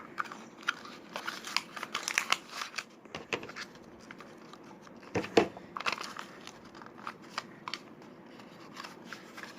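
Scissors snipping and trimming excess material while decorating patio furniture, a run of close, irregular crisp cuts mixed with crinkling rustles of the material.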